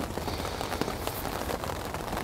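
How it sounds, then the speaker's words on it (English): Steady patter of rain on a surface, a dense even hiss with scattered droplet ticks and no voices. "A little bit of rain."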